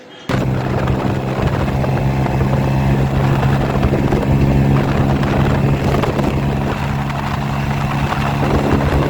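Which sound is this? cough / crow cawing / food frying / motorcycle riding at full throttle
motorcycle riding at full throttle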